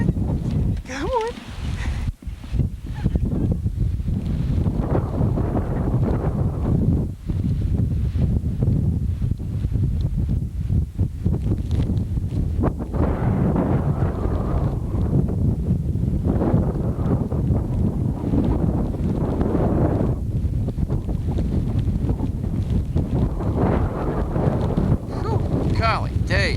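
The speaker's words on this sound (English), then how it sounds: "is that wind blowing hard" Strong, gusting wind from the 1993 blizzard in Hampstead, Maryland roars loud and continuous, buffeting the microphone, while someone talks now and then over it.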